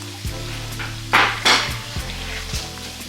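Octopus frying in a pot for Ghanaian cabbage stew, heard as a low sizzle under a steady hum, with two sharp bursts of hissing and a few light clinks of utensils against the pot, close by.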